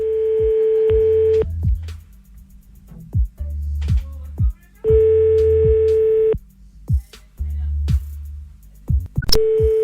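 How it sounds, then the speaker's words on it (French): A telephone line gives repeated steady beeps of a busy tone after a call drops, broken up by clicks and short bursts of talk over the line. "on a encore été coupé"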